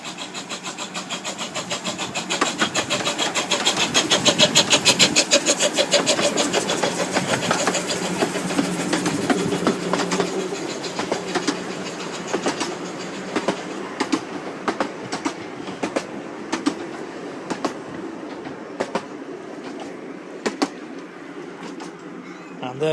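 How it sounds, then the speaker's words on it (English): A heritage steam locomotive, double-headed with a second engine at the rear, pulls into a station on a Yorkshire light railway, rumbling loudly and then easing off, its wheels clacking in a steady rhythm as it slows to a stop. "And there we go, pulls into the station."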